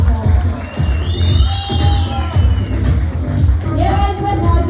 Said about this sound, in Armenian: ծափարեք